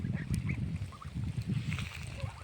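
Several geese honk and cackle repeatedly at a moderate distance, a noisy flock of overlapping calls against faint outdoor background, just after thunder.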